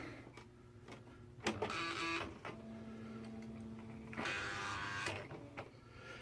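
A Smith Corona SL80 electric typewriter is switched on and hums steadily with a low motor drone, broken by a couple of louder mechanical whirring bursts and clunks.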